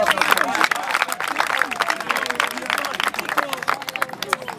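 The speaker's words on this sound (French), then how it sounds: "On applaudit encore pour lui" A crowd claps in a dense, uneven patter, with scattered voices and chatter mixed through the applause.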